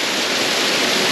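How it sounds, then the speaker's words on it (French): A loud, constant roar of rushing water from a waterfall in the Italian Alps, dense and unbroken, with no other sounds standing out. "Oh là la cascade!"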